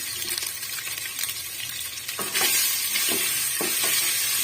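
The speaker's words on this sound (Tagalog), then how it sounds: "Gisa-gisa lang po natin po mga kananay" Pechay being sautéed in a pan, a steady close sizzle with scraping stir strokes that grows louder partway through, with a few sharper clatters of the utensil near the end.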